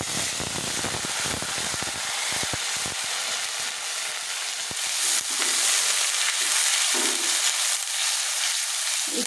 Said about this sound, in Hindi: अब हम इसमें प्याज एक हमने ग्राइंड कर लिया है वो डाल देंगे।